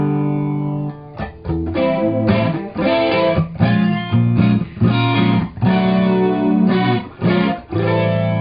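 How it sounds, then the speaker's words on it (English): Electric guitar chords ring out through an analog flanger, the tone sweeping and swirling as the chords are struck again and again. "That's an analog flanger."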